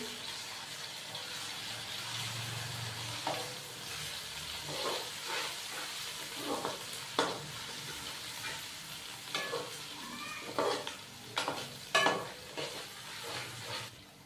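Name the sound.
ginger garlic paste frying in pan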